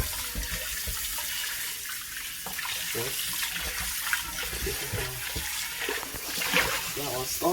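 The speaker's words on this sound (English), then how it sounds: "So as you can see, rinsing out my pot." Tap water runs steadily into a cooking pot as it is rinsed in a kitchen sink, a close broad hiss with shifting splashes as the pot moves. A voice talks softly beneath the flow.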